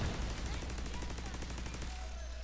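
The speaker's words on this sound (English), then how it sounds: "I'm just shooting away." Steady automatic weapon fire in The Division 2, a rapid even stream of shots running continuously under a droning background for a couple of seconds.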